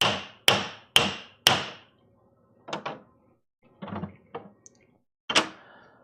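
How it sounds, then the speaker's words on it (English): A hammer raps a table at a live vinyl record sale: four sharp, loud strikes in quick succession, then a few softer knocks and taps after a short pause. "That was the hammer saying that the bundle's exiting the table."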